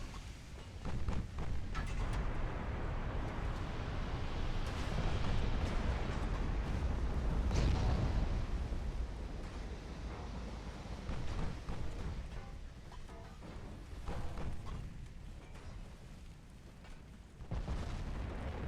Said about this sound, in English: Ooh, big hit on the destroyer back there.